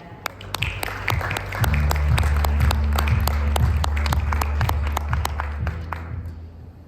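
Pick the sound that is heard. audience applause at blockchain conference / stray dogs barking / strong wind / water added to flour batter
audience applause at blockchain conference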